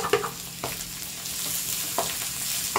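Red onion and garlic sautéing in a pan over low heat, a soft continuous sizzle broken by a few sharp scrapes and taps of a spoon stirring, close by and without any talking.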